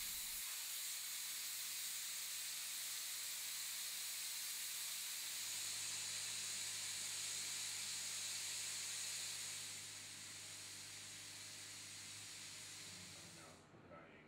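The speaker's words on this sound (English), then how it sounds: "When the lever is fully upward, the steam will escape at maximum." Steam hisses steadily out of the release lever of a 39-litre portable autoclave, a continuous bright rush that eases slightly toward the end before cutting off.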